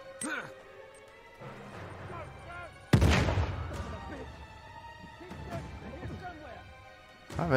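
Shotgun fire in the video game Uncharted 4 gives one loud, heavy blast that rings out into a decaying tail, with lighter impacts and voices talking around it.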